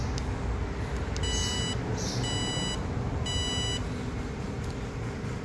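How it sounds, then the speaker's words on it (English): Repeated short electronic beeps from an electrical test probe, three or four bursts in an irregular sequence, over a loud steady background noise. "I don't know why it's beeping"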